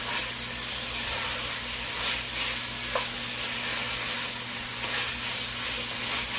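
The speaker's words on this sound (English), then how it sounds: "we just want to get the beef in here so it can start to get a little bit of color on it and a little bit of browning" Beef pieces browning in a pot for a homemade pot pie, giving a continuous sizzling hiss that stays fairly even and close throughout, with a few brief stirring clicks and no voices.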